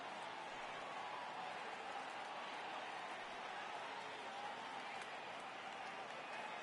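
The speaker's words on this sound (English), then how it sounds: "Crowd gets up for the 3-2." Steady, dense crowd roar from a stadium in the baseball video game MLB The Show 18, rising as fans get up for a full count, a constant wash of cheering with no talk over it.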